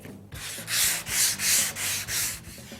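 Rhythmic sanding with a flexible Soft-Sanders sanding block on a car's louvered panel, five or six loud back-and-forth rasping strokes close by in a steady rhythm, with no talk.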